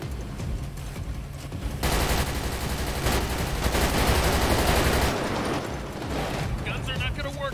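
Gunfire in GTA 5 roleplay, sustained rapid bursts rattling loudly through the middle of the stretch over a dense noisy background, with people calling out during the shooting.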